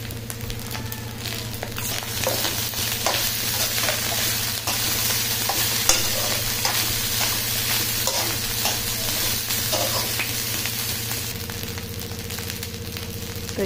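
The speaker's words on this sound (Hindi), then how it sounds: "आप भी कभी बच जाए घर में चावल फ्राई करके देखिए।" Leftover rice fries in a pan with amchur and chaat masala, a continuous close sizzle with repeated scraping stirs throughout.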